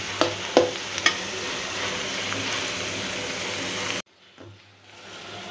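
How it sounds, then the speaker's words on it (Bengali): Ginger spice paste fries and sizzles in hot oil for a shing fish curry, with a few sharp stirring scrapes early on over a constant close hiss that drops away abruptly near the end, then resumes faintly. "এই যে আমার পেস্টে আদা আদা লাল লাল ভাজা ভাজা হয়ে গেছে।"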